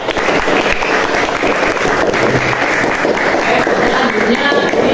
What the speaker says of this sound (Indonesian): silahkan kita beri tepuk tangan untuk karya kita